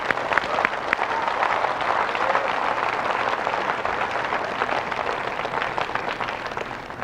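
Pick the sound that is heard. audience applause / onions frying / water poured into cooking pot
audience applause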